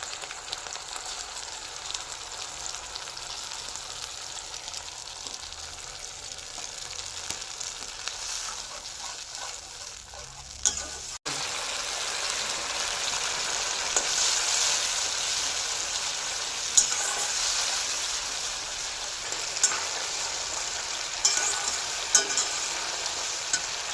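Tomato paste frying in a pan for a vegetarian matar paneer, a continuous sizzle that jumps louder midway, with scraping stirs throughout and no voices.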